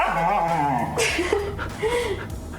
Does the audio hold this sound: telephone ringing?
no